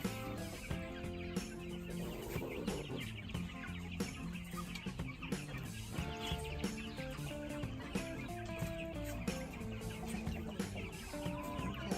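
Many chickens cluck and squawk in a busy, overlapping chorus, close and continuous, with no talking.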